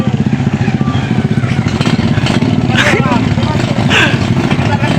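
Motorcycles being kick-started and running for a motorbike tug-of-war, a loud, steady engine chug throughout with people shouting over it.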